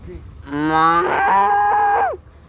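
A young child imitates a cow with one long, sustained, droning moo lasting about a second and a half, voiced close and loud with no other sound around it.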